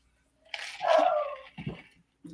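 A dog barks once nearby, a drawn-out yelping bark followed by a couple of short huffs and a faint final sound, heard alone without talk.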